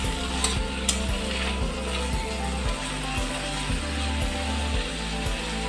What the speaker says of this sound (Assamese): অকণমান তেল দি এটাই আলু দিছোঁ